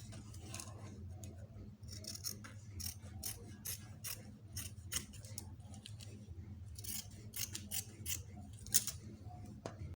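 Fabric scissors snip out bomber jacket pieces in a steady run of crisp, close cuts, with a soft low hum underneath and no talking.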